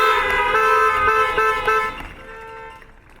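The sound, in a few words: car horns honking at commencement ceremony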